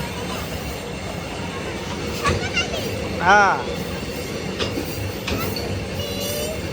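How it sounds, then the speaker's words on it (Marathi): A long goods train rolls past close by at a level crossing with a steady rumble and clatter of wagons, a brief metallic wheel squeal in the middle, and a voice speaking briefly. "लांब रेल्वे संपत आले"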